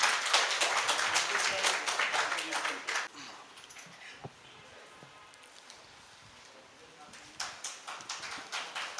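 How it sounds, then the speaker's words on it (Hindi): Audience members at an indoor city conference hall clap to welcome a speaker: a rhythmic, loud round of applause that fades into murmur, then picks up again briefly at the end. "आप एक बार जोरदार तालियां बजाकर इस्तकबाल कर दीजिए।"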